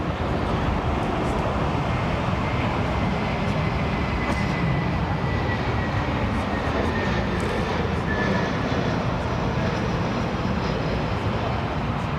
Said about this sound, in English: We have Lufthansa 320 in from Zurich.